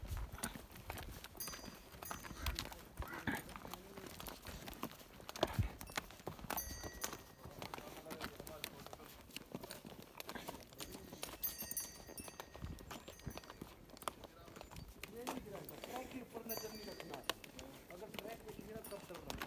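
Hooves of a ridden mare clip-clop at a walking pace on a trip around Shimla, a steady, fairly quiet rhythm under chatter from people nearby.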